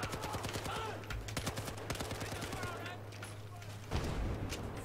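Rapid bursts of Battlefield 4 gunfire cut down civilians in quick repeated volleys, sharp and fairly close, easing into scattered shots and then a heavy boom near the end, all at low level.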